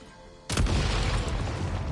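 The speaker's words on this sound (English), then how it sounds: "Shoot the explosives to detonate them and clear the path." Explosives detonate in the video game Genshin Impact: one sudden loud boom erupts after a brief quiet lead-in, then a dense, rumbling roar lingers at full strength to the end.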